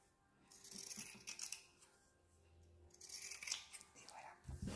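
Scissors snip through fabric while a soap pouch is cut out for sewing, a few short crisp bursts of cutting near the microphone with light handling rattles between them; no talking during the cuts.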